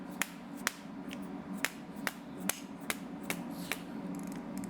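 A socket wrench being tapped to break a bolt loose on a 2019 Husqvarna FC 250 motorcycle. Sharp metallic clicks and taps arrive one at a time at an irregular pace, close and distinct over a low steady hum.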